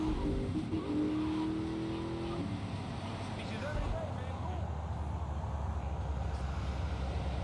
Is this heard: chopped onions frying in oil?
no